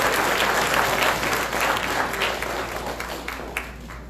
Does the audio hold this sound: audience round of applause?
yes